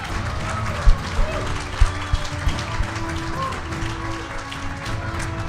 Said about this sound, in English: How about a big round of applause tonight?